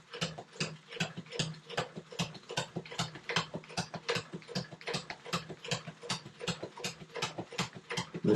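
Sewing machine stitching a lock stitch through jib sail cloth, a steady rapid mechanical ticking of needle strokes, close and even in rhythm throughout with no voices.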